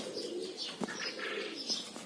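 Pigeons coo and chirp in a loose, overlapping run while a flock is flown, with a few sharp clicks or wing flaps, soft and at middle distance with no speech.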